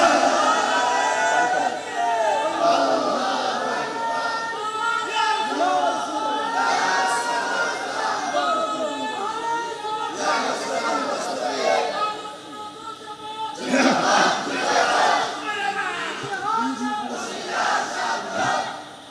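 A large crowd at an open-air Islamic sermon gathering about Karbala in Chandanaish chants slogans together in loud, surging waves, with voices rising and falling across the whole stretch.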